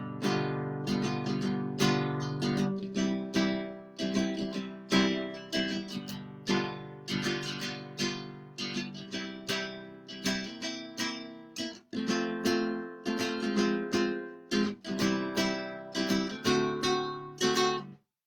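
Guitar playing the chords of the second verse of a song from The Jungle Book: a steady rhythmic strummed accompaniment with bouncy repeated chord hits, close and clear, no singing or talk.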